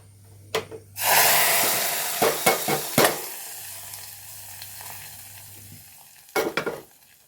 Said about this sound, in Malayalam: ഇനി വറ്റൽമുളക് കേട്ടോ ഇതിലേക്ക് ഒഴിച്ചു കൊടുക്കട്ടെ